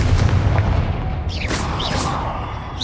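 A Confringo fire spell blasts in Hogwarts Legacy with a loud, booming, sustained roar and crackling burst, dense and close, with no talking.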